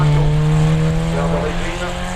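A Lada rally car, number 321, roars close by on a special stage, its engine loud and steady throughout as it passes.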